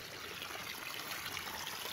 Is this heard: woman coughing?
no